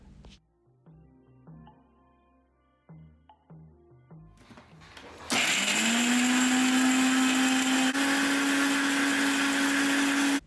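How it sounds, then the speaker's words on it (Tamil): A few light clinks and taps, then a mixer grinder whirs on loudly with a steady high-pitched motor whine, grinding cashews, almonds and pistachios continuously to a fine paste until it stops. "இப்போ மிக்ஸி ஜாரில் போட்டு நல்லா ஃபைன் பேஸ்ட்டாக அரைச்சிக்கோங்க."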